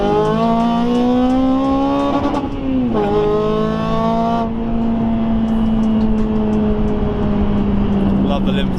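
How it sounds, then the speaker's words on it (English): Honda Civic Type R FN2 with modified intake and exhaust, its engine loud and close as revs climb, dip around three seconds, then hold a steady droning note, with a faint voice in the background. "the noise and just the noise alone with the intake and the exhaust just makes it"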